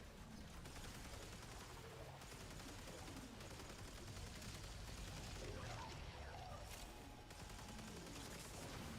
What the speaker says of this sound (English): Fireworks are starting to kick off for 4th of July.